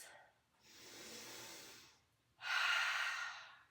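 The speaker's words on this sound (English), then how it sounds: "Let's take a big cleansing breath with namaste hands." A slow, deep breath during a seniors' yoga session, with a long soft inhale followed by a louder, forceful exhale, heard close and alone.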